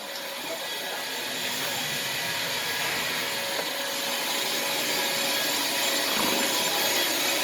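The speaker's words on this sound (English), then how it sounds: "it looks like Phil's got the vacuum cleaner" Vacuum cleaner running inside a train car under restoration, a loud continuous whooshing hum held steady throughout with slight shifts as the nozzle moves.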